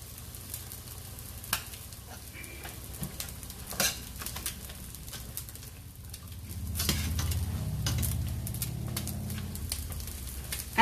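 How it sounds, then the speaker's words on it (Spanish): Chilaquiles, fried tortilla pieces in red sauce, simmer in a pan with a steady sizzle and soft bubbling that grows fuller toward the end, punctuated by a few faint clicks, with no talking. "vamos a dejar nuestros dos chilaquiles hervir por aproximadamente 2 minutos."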